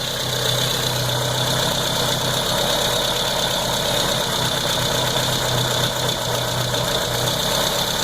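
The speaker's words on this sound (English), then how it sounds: "you lift it up and you listen to the car" Carbureted car engine idling during carburetor tuning, a steady, loud, close mechanical hum and rumble with a constant low drone throughout and no talking.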